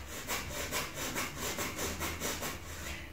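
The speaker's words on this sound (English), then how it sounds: "this breath is called the dragon breath" Forceful, rhythmic dragon breath exercise, breaths pumped in and out from the stomach about twice a second, each a harsh airy rush, close and loud with no talking.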